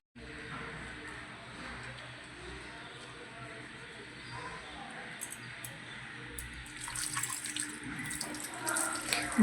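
Running tap water splashes as a face is rinsed after neem face wash, a steady close hiss that grows busier with splashing near the end.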